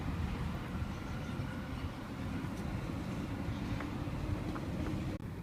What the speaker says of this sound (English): and a train just going over there.